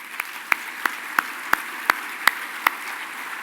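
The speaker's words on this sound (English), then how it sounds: "I think we should round of applause for those kids." A handful of slow, evenly spaced hand claps ring out at an annual luncheon. There are about eight crisp, isolated claps over a quiet room background.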